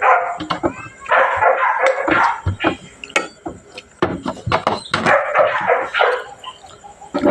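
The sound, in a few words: dog barking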